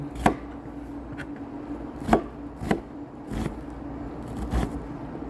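A knife chops onion on a board in several sharp, irregular thuds, spaced apart, over a low steady background hum.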